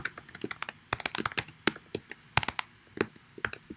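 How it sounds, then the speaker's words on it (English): Rapid, uneven clacking of fingers typing on a computer keyboard, keys struck in quick bursts with short pauses, close and clear with no talking. "you can always just type in a question"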